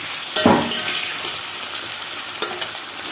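Bhola fish fries in a pan with a continuous hiss of hot oil, close and loud, broken by a few sharp stirring or turning clatters, with no talk.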